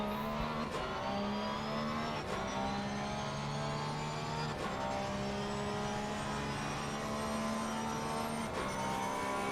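A GT3 race car engine screams down the straight at Circuit of the Americas in a racing game, rising in pitch through each gear, with sharp upshifts cutting in about every two seconds, loud and steady with no talk.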